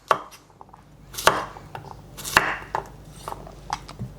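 A knife chops a cucumber into big chunks on a cutting board for a Greek pasta salad, with a few sharp, separate thunks at an uneven, unhurried pace, close up and clear.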